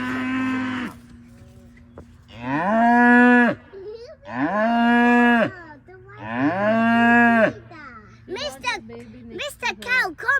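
Cattle on Whirlow Hall Farm moo loudly and close by, four long drawn-out lowing calls in a row, followed by shorter higher bleating sounds at the end.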